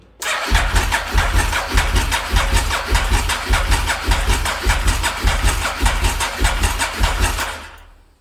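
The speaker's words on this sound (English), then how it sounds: "you can hear the fuel pump prime" A car engine with no battery, powered from a booster box, cranks over repeatedly in a fast rhythmic churn for several seconds as the fuel pump primes, without catching, then stops.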